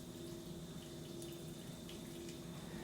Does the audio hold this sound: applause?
no